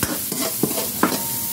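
Garlic and onion sauté in a pan for squid in oyster sauce, a loud close sizzle punctuated by three or four distinct scraping stirs of a utensil.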